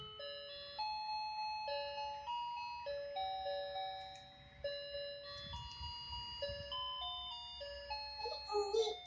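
Toy ice cream train playing a bright chiming electronic bell melody, a steady series of clear tones with someone speaking softly underneath midway and near the end.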